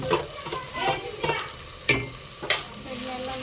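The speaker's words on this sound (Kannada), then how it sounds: "ಈಗ ಮತ್ತೆ ಕೊಬ್ಬರಿನ ಪೇಸ್ಟ್ ಮಾಡಿಟ್ಕೊಂಡಿದ್ದೆಲ್ಲ ಅದನ್ನು ಹಾಕ್ತೀನಿ ನೋಡ್ರಿ" Coconut paste is stirred into village chicken frying in a pan, giving a steady sizzle broken by sharp spoon scrapes and knocks against the pan at irregular intervals, close up, with no talking.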